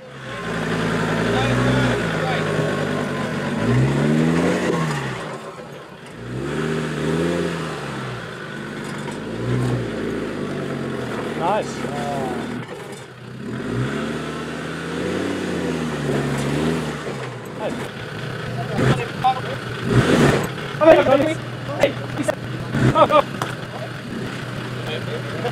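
4WD off-road vehicles, including a Hilux, Patrol, JK and Land Rover, with engines revving in rising and falling surges while climbing a nasty rocky step near Lithgow, and someone talking over much of it.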